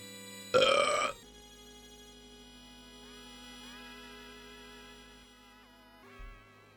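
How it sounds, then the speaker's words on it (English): A single loud, rumbling burp after eating an entire bag of chips, lasting about half a second, against a quiet background of steady video game music. "that was a post eating an entire chip bag burp"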